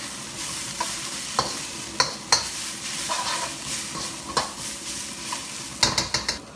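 Eggplant and chives sizzling steadily in a hot pan while a utensil scrapes and clacks against it in irregular stirring strokes, close and alone.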